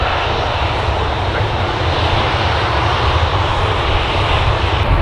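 Jet2 airliner engines roar steadily at Manchester Airport, a loud, continuous broadband rumble near the runway threshold with no break across the whole stretch.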